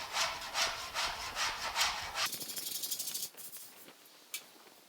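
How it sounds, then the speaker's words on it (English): A straight edge rubbed back and forth over body filler on a 1950 Chevy truck, giving close, rhythmic scraping strokes that quicken and then stop, with a small tap near the end. "Rubbing the straight edge on there, it leaves a mark"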